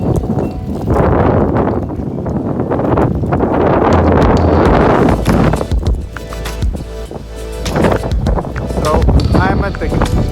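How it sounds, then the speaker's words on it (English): Strong wind gusts buffet the microphone outdoors at a lock and canal landing in a small New York town, a loud rumbling roar that swells and drops irregularly while a person talks over it. "It's a little windy."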